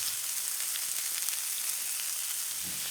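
Garlic hits softened onions in a hot pan, giving a steady, close, bright sizzle of frying that holds evenly throughout.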